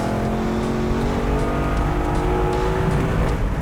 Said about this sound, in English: whenever you open the Coyote up and get it into the upper RPMs, it's absolutely just screams